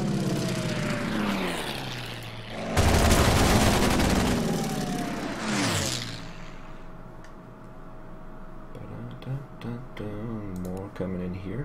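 Strafing attack on an AA gun in Order of Battle on the Burma Road campaign, a propeller aircraft drone swelling into a loud burst of rattling gunfire, then fading to a steady hum with soft ticks while someone talks.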